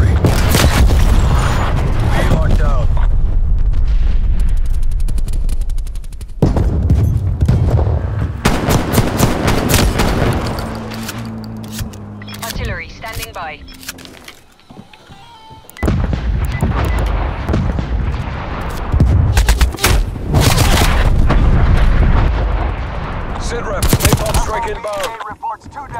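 Artillery strike in Black Ops Cold War Combined Arms: heavy booming explosions and rattling gunfire fill the scene, loud and dense, with a brief lull midway before the barrage resumes.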